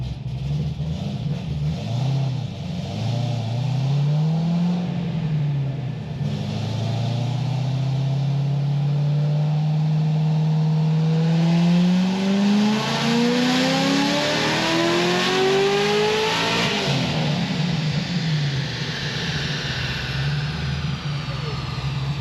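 A supercharged Corvette C6 Z06 engine makes a full-throttle pull, climbing steadily from a low rumble to a loud, high-pitched scream before the revs drop abruptly near the end.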